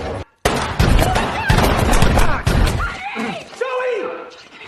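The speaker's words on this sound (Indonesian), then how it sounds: "si pacar pun maut terkena tembakan yang dilepaskan oleh James" A rapid burst of loud gunshots over dramatic film sound and voices, followed by tense music-like tones.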